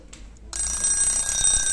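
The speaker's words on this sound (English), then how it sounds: "See, the alarm works and button is stop." A mechanical alarm clock set for 4 AM goes off, its bell ringing loud, continuous and close after a half-second of quiet handling sounds.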